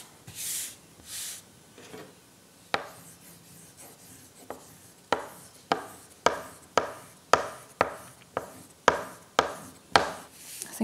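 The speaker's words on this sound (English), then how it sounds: "I think this is called burnishing" Burnishing a freezer paper image transfer onto wood makes a run of rhythmic rubbing strokes, each a short scraping rasp, coming faster and louder as they go, close by with no talk.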